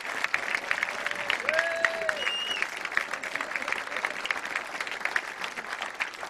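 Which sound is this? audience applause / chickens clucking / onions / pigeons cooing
audience applause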